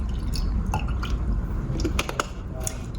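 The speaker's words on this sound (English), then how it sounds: "In a separate measuring cup, we are going to put in here 1/2 cup of water" Half a cup of water is poured into a measuring cup while making slime with glue, giving close, brief splashing and dripping sounds with a few light knocks, no talking.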